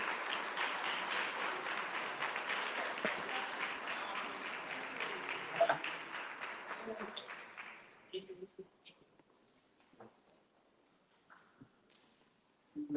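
An audience at a South Florida athletic awards event applauds the all-star team with dense clapping for about eight seconds, which then thins to scattered claps and fades into quiet room noise.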